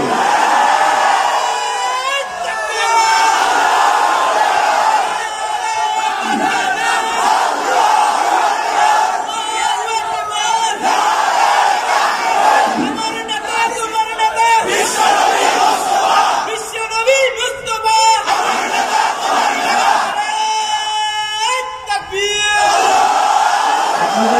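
A large crowd at an outdoor religious gathering chants the Allahu Akbar slogan in loud, repeated collective shouts. The waves of massed voices come in rhythmic bursts and fill the whole stretch.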